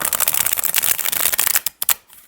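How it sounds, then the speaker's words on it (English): A standard-size tarot deck of flexible but sturdy cardstock riffles and shuffles in dense, rapid bursts up close, then a few sharp separate flicks as the deck settles near the end. "Let's just give it a shuffle."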